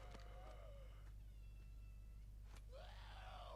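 A house cat meows close by, with a clear meow at the start, a fainter one midway and a longer, louder meow at the end, over a steady low hum.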